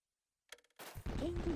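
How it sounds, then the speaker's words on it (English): Fireworks go off in the Luigi's Mansion video game: a few quick crackling pops, a heavier burst, then a sustained musical tone. "Where'd those fireworks come from?"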